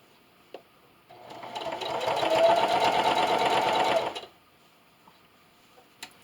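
Sewing machine running steadily for about three seconds while stitching a 1/8 inch seam on fabric, a close, even mechanical whir that starts and stops cleanly.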